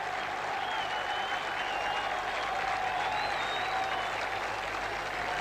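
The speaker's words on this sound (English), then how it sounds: "And the Greeks are cheering as loudly as indeed are the Londoners." Dense stadium crowd cheering and applauding at the 1971 Cup Winners' Cup Final football match between Chelsea and Real Madrid in Piraeus near Athens, a continuous loud roar with whistles rising above it.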